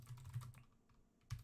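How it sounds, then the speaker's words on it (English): Typing on a computer keyboard, a quick burst of soft, close key clicks, a pause, then a single louder tap, faint and without talk. "Sorry, I'm typing."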